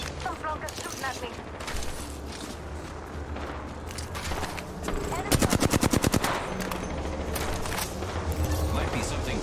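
Sustained automatic gunfire from enemies in Apex Legends on the Olympus map, with rapid bursts and a loud, dense volley in the middle, mixed with game effects and footsteps.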